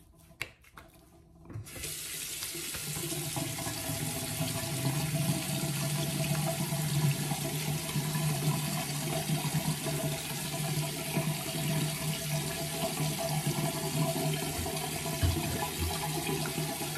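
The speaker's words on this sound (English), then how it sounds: "Gonna run up some hot water." Hot water from a sink tap gushes steadily into the basin of a bathroom sink, starting after a couple of brief clicks and holding a loud, even splashing rush until the end.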